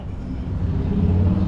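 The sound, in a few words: motorcycle passing by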